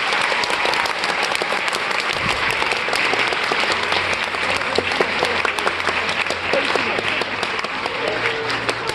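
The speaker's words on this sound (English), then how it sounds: "give all of your staff a round of applause for that" An audience gives the staff of a school show a sustained round of applause, dense steady clapping from a large crowd filling the whole stretch, with a low voice faintly underneath.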